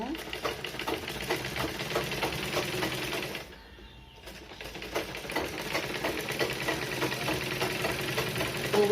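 Electric sewing machine running steadily while stitching blouse fabric, a continuous mechanical whir with a brief pause midway, under a voice speaking throughout.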